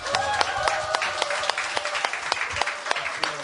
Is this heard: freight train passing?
no